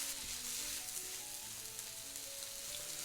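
Kimchi with garlic and green onion stir-frying over medium heat as enoki mushrooms go into the pan for kimchi fried rice; a steady close sizzle runs throughout with faint stirring, no talk.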